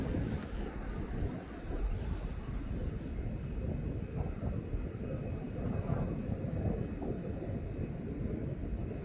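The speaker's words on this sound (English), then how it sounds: "The Ryanair to Lanzarote is just pushed back. The Boeing 737 MAX 200." A Ryanair Boeing 737 MAX 200 at East Midlands Airport just after pushback gives off a steady, distant low rumble with a faint hiss that stays even for the whole stretch.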